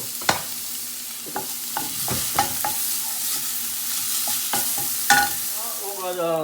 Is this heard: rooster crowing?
no